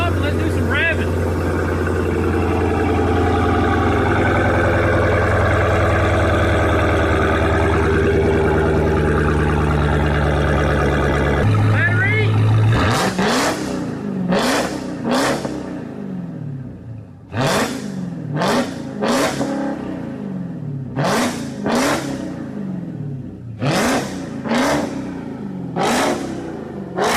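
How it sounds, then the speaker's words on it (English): A Dodge Hellcat Redeye V8, rebuilt after a wreck, rumbles at a steady idle while warming up, then barks through a series of sharp, loud revs that climb and fall back in quick bursts, close to the listener. "Let's let it warm up and let's do some revving."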